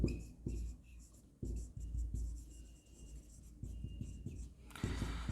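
A pen scratches across paper in short strokes and pauses, close and quiet, as an accounting equation is written out.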